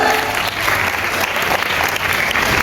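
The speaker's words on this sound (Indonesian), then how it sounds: "Tepuk tangan untuk santri Azikro." Santri at an Islamic boarding school event marking the opening of a hall and an Independence Day celebration are applauded by the crowd, whose dense clapping stays loud and even from start to finish.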